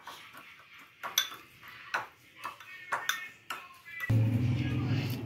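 A spoon mixes lemon juice into dal in a pot, striking the metal in a run of distinct ringing clinks about every half second, before a steadier, louder rumbling noise takes over near the end.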